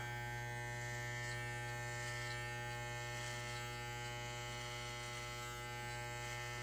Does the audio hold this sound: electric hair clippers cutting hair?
yes